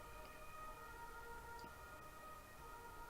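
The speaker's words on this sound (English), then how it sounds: "We've got ambulances, all the good stuff here." An ambulance siren wails faintly in the distance, a steady tonal whine held throughout with no talk over it.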